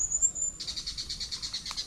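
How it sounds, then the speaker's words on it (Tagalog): Birds chirping outdoors on a farm as a storm approaches, a steady run of quick, evenly spaced chirps at moderate distance, with a single thin whistled note before them. "Ibon."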